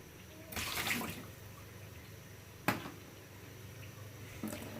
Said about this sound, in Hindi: इनको थोड़ा सा धो लेते हैं, 2-4 मिनट पानी में भिगो के छोड़ देते हैं